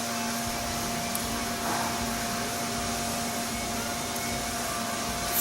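A twin-turbo 4000-horsepower engine runs on a dyno, heard as a steady, dense roaring drone with a constant hum. It holds an even level throughout, with no voices.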